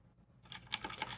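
Quick, light keystrokes clatter on a computer keyboard while entering code, a close, soft run of clicks after a brief quiet start.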